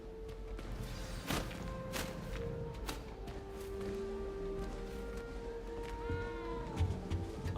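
A cat in the Hogwarts Legacy video game meows several times at mid volume, the calls rising and falling over a low ambient game background with occasional soft thumps and whooshes.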